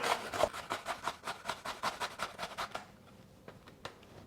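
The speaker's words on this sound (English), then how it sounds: "So we're just going to grate our cucumber." A cucumber being grated on the large holes of a box grater, with about a dozen quick, even rasping strokes that stop partway through, followed by a couple of faint knocks, close and quiet with no talk.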